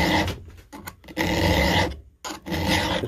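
A hand file rasps across the teeth of a chainsaw ripping chain, with close, loud, gritty scraping strokes and a brief pause between them.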